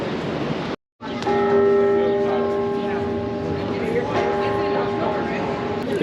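Near the Liberty Bell in Philadelphia, a bell rings out with a sustained, resonant tone that lingers and slowly fades, while people talk nearby over street ambience.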